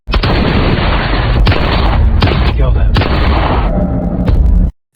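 Film gunfire rings out as a heavy, continuous barrage of loud booming shots with several sharp individual cracks, filling the whole scene before cutting off abruptly.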